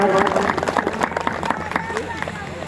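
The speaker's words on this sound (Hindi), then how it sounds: "जोरदार ताली स्वागत कीजिएगा।" An audience at an annual gathering in Salhewada, Balaghat applauds loudly to welcome a guest, dense fast clapping from many hands over a murmur of crowd voices, with someone speaking over it.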